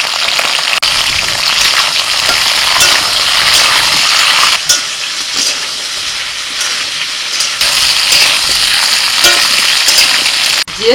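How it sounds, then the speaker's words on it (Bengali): Mixed vegetables such as papaya, carrot, cauliflower, radish, beans, sweet potato and pumpkin fry in a pan, giving a steady loud sizzling hiss broken by a few scraping knocks as they are stirred. "সেইভাবে নাড়াচাড়া করে কিছুক্ষণ করে ভেজে নিচ্ছি"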